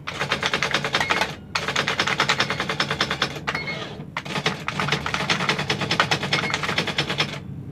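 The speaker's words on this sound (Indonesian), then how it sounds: "Kita coba ngetik." Rapid, steady keystrokes clatter on an IBM 1000 typewriter, loud and close, with two short pauses breaking the continuous mechanical tapping.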